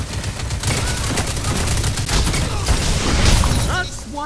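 Dense scout rifle gunfire in a Destiny-style shooter game, sharp shots and impacts packed together over busy game effects, loud and continuous throughout, with no one talking.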